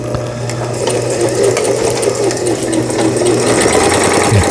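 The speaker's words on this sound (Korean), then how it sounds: "일단은 박음질을 해보도록 하겠습니다." A Brother Star10 home sewing machine stitches at speed after repair, its needle mechanism chattering in a rapid, even rhythm close by for several seconds, with no talk over it.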